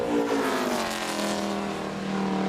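A NASCAR race car on a qualifying lap at Gateway in 2008, its engine holding a loud, steady, high-pitched roar with a slight falling pitch as it passes, with no talk over it.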